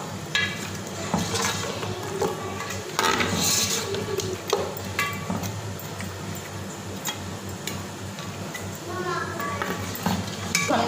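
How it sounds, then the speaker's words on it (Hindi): Beef qorma with whisked yogurt being stirred and fried over high heat in a pot, the spoon scraping and clinking against the metal with a steady sizzle beneath, continuous and close. "और इसको अच्छे तरीके से फिर भूनें"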